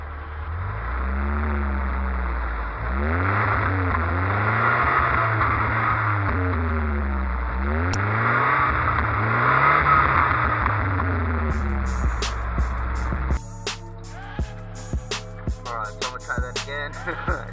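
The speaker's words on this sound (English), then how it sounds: "we're gonna crank it up, kind of do some revs" A Nissan Hardbody pickup truck engine, treated with Seafoam, revs up and down in repeated rising and falling swells, loud and close, then drops to a rough, ticking idle.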